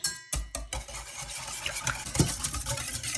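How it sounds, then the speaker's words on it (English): Wet ingredients with canola oil are mixed in a bowl, producing continuous close scraping and swishing stir sounds with a couple of sharp knocks at the start, steady and busy throughout without talking. "I'm gonna mix all this up."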